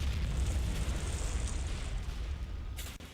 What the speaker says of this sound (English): the 81mm fire mission impacts on the southern end of Objective June